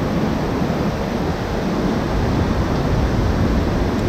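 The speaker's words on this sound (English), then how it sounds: "here is the waterfall" A waterfall near an abandoned house in a rural village outside Sihanoukville, Cambodia, during the rainy season, roaring as a dense, steady broadband rush of falling water, loud and close, with no voices.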